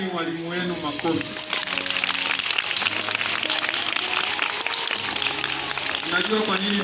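Schoolchildren at a school gathering applaud their teachers, with a dense burst of crowd clapping lasting about five seconds and voices before and after.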